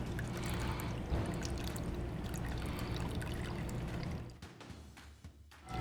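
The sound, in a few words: pouring Akron Apple cocktail from shaker into martini glass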